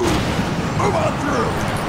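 High explosive charge detonating in the video game Vanquish, a loud sustained booming rumble that fills the whole stretch, with game voices mixed in.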